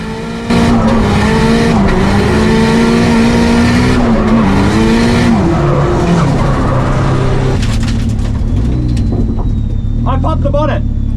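A Nissan S13 Silvia drifting, its engine loud and close as it revs, with tire squeal rising late in the run, while people talk excitedly over it.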